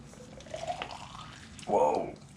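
Thin blue tire sealant pours quickly from a bottle in a garage, a brief close liquid gush rising after softer trickling, with faint voice sounds around it.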